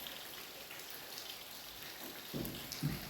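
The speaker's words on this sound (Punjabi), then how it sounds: "ਮੀਂਹ ਪੈ ਰਿਹਾ" Steady rain patters down continuously, with a couple of louder, closer splashes or drops near the end; no one speaks.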